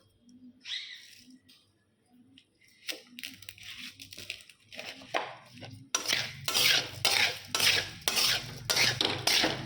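Carom seeds, green chillies and whole five-spice are stirred in a large wok, giving repeated metallic scrapes and clatters of a spoon against the pan, growing busier and more rhythmic toward the end, close with no talk.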